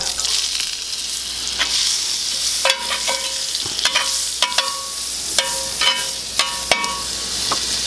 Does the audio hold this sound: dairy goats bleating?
no